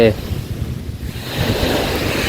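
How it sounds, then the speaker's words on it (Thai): Surf rushing and washing onto a sea shore in Thailand, a steady broad roar of waves with gusty wind buffeting the microphone. "เสียงทะเลแห้งเลยเสียงคลื่นทะเล"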